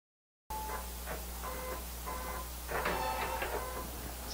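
A single-needle embroidery machine stitches in short mechanical bursts of whirring and clicking over a steady low hum, running at moderate volume and growing a bit busier toward the end.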